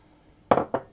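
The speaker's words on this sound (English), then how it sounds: "I'm going to add my crystallised ginger" Crystallised ginger pieces tipped into a bowl of oat biscuit ingredients give two quick, close clinks and rattles, alone in a quiet kitchen.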